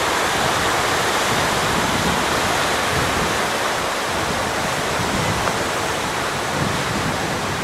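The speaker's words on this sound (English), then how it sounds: "you are there watching the tidal bore come in" Broad, steady roar of rushing water as the tidal bore comes in on the river at Moncton, New Brunswick, continuous and loud with no breaks.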